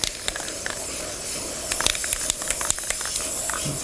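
Steady hissing spray from an aerosol can laying black paint onto the frame of an arcade cabinet coin door, continuous and close, with faint clicks and taps throughout.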